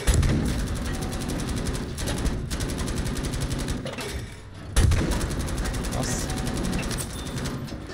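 Gunfire in a first-person shooter video game: sustained rapid automatic bursts and heavy shots, loud and nearly continuous with brief pauses, under a player's excited talk.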